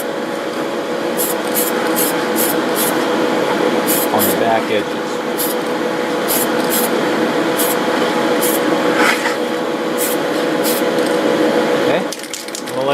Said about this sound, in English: we're just going to spray just a little bit